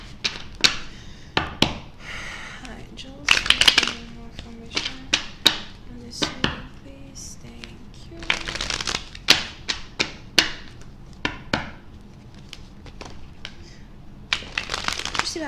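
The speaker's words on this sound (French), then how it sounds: "Mes cartes n'arrêtent pas de tomber." Tarot cards are shuffled and keep slipping and falling, producing scattered sharp taps, flicks and slaps in irregular clusters, close by, with a voice talking among them.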